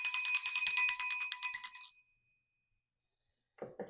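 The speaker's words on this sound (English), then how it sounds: "Now I'm going to use my mom's bell" A small bell rings repeatedly in quick, bright jingling strokes for a couple of seconds, then falls silent before a brief faint clink.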